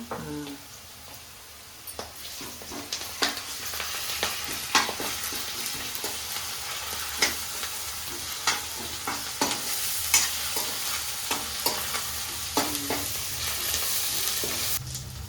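Fresh ginger-garlic paste frying in a pan for Sunday-special boti fry, a steady crackling sizzle broken by repeated scraping and tapping strokes of a spoon, close and with no talking.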